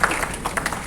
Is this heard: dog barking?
no